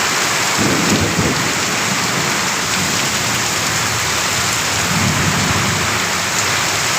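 Heavy, steady monsoon rain pours down throughout in Mohanganj, Netrokona, Bangladesh, with low rumbles of thunder rolling in the background twice.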